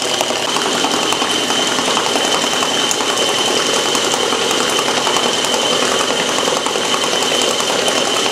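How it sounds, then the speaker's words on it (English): A stand mixer with a paddle attachment whipping peanut butter fudge of peanut butter, brown sugar and heavy cream runs with a loud, continuous, buzzing motor whir, steady throughout, close to the listener, with no talking. "By whipping it up with the paddle, air actually gets introduced into the candy."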